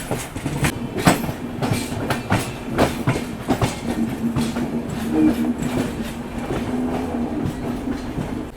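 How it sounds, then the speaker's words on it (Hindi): A long-distance express train pulls out of New Delhi railway station, with rhythmic clickety-clack of wheels over rail joints and a steady low rumble of rolling carriages. "अभी देखो नई दिल्ली रेलवे स्टेशन से अपनी ट्रेन निकली है"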